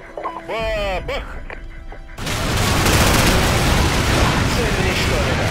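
A voice briefly, then a loud, continuous burst of Call of Duty 4: Modern Warfare gunfire and explosive rumble that fills the rest of the clip.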